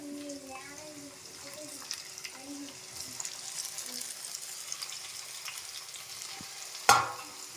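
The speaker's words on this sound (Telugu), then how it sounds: "ఇప్పుడు టమాటాలనే యాడ్ చేస్తున్నాను అనమాట" Tomatoes tossed into a pan of frying ginger garlic paste give a soft, steady sizzle with stirring scrapes, ending in one sharp clank of a utensil near the end.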